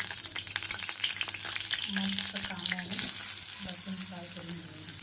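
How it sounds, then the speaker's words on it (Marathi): Onion and coconut roast in oil in a hot kadai, giving a steady, close sizzle and crackle, with a voice speaking briefly over it. "कांदा आणि खोबरं एकत्र भाजून घेऊया"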